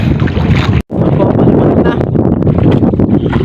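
Strong wind roars across the microphone aboard a small fishing boat out shrimping at sea in the northeast monsoon, a loud continuous buffeting with one brief dropout.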